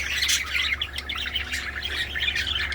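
Several parakeets chirp and twitter continuously, bright and close, overlapping in a busy chatter with a low hum underneath.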